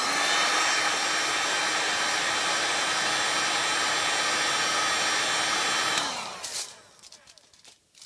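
A heat gun blasts hot air onto Worbla thermoplastic in a loud, steady roar for about six seconds. It then cuts off and winds down, followed by a few faint handling noises.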